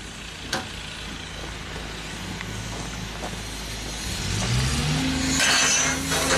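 Genie lift driving on a test drive that only moves one way, with a low steady motor hum and faint mechanical whine that swells slightly toward the end, heard alone without talk.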